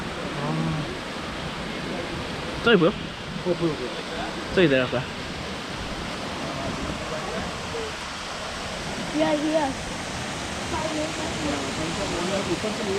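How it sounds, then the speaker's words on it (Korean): A small waterfall at Wentworth Falls in the Blue Mountains gives a steady, broad rush of falling water. People talk briefly over the constant roar. "처음으로 나오는 폭포. 작은 폭포죠."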